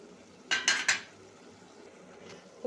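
A spoon clanks against a pot in three quick metallic strokes while stirring meat curry seasoned with salt and turmeric, followed by quiet background and a faint final tap.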